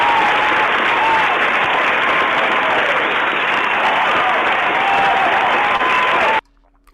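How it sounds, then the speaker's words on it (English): Canned applause segment played during a webinar on women in franchising: a loud, steady wash of crowd clapping with a band-limited, broadcast-like quality, sustained evenly for about six seconds, then cut off abruptly into near silence. "Ray, what did that applause segment mean?"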